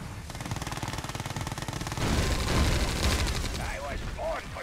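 Rapid bursts of machine gun fire rattle on in the Red Alert 2 Yuri's Revenge campaign, dense and continuous, turning heavier and noisier partway through as the game battle continues amid other effects.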